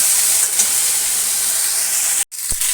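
Okra frying in a pan, a loud, steady hiss and sizzle of hot oil close by, broken by a brief dropout near the end.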